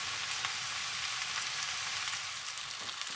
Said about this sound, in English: once the onions have sauteed down into a nice brown colour